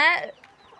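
A single short cluck from a chicken on a poultry farm, close and brief, fading quickly into near silence.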